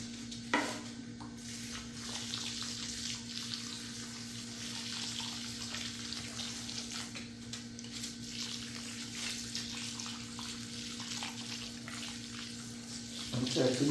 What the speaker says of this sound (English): So I'm just going to water them now, water them in,